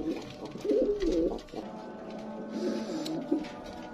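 A pair of red checker pigeons coos close by, with two clear bursts of throaty, rolling calls separated by a short pause.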